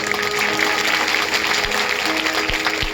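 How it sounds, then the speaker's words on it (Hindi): Audience at a Saraswati Shishu Sadan school function clapping to welcome a guest, a loud sustained burst of many hands with a few sharp thumps underneath and a faint steady hum. "रउआ लोग ताली से स्वागत करम।"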